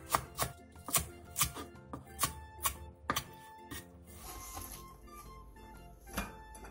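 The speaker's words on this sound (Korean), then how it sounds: "부추 1줌 반을 3cm 정도 길이로 잘라주세요. 대파 4-5개를 어슷썰기 해주세요." A knife cutting Korean chives into 3 cm lengths and slicing green onions diagonally on a board, making a close series of crisp, quick chops in an uneven rhythm before they give way to quieter handling.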